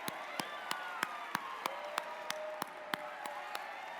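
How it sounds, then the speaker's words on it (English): Applause for competing teams at a robotics event: a small group claps in a steady, evenly spaced rhythm, about twelve distinct claps in a row, heard faintly against a quiet hall with a soft tonal hum behind. "Let's give our teams a big round of applause."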